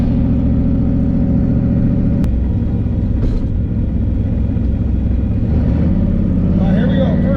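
A car with a Tremec TKO manual transmission accelerates, its engine droning loud and close, with a gear shift midway as the pitch drops and climbs again; a voice is heard over it.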